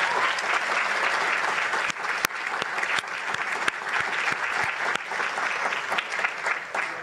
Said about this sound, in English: let's give another round of applause for all of the countries that are represented here today